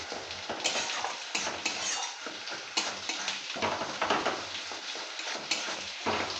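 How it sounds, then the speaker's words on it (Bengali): Tomatoes mashed and stirred in a pan for a Bengali fish curry, a steady near scraping and stirring with soft sizzling underneath and spoon knocks against the pan. "টমেটোটা ভালো করে মেরে নিতে হবে।"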